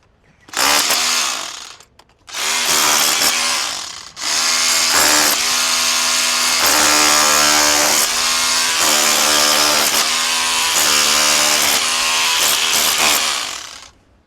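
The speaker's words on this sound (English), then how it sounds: "when using the chisel here, we've switched into just the hammer mode" A loud, close SDS hammer drill in hammer-only mode chisels brick in rapid repeated bursts, a harsh rattling pounding that starts, pauses briefly, then runs continuously for about ten seconds.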